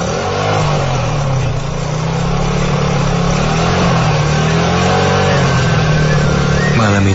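A motorcycle engine runs steadily and loud, droning with gentle pitch swells as it rides at night, ending in a brief rev.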